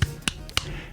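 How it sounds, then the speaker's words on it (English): A golf clap, a few soft quick claps, three sharp close taps spaced about a quarter second apart, alone with no talk. "golf clap"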